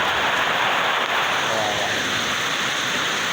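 Heavy rain pounds down in Bacolod, a dense, loud, unbroken roar of water on streets and roofs that fills the whole scene.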